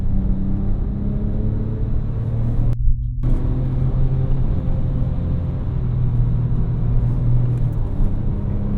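Porsche 911 Turbo 997.1 with a manual gearbox cruising on the road, a steady, close engine and road rumble inside the cabin that drops out for a brief moment before resuming at an even level.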